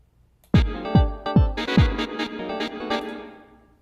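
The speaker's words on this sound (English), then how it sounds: "I'm gonna start some new drums, new drum patterns." A freshly programmed techno drum pattern plays alone, opening with four booming kick hits at a steady pace, then layered with snappy hits and hi-hat ticks that ring out and fade near the end.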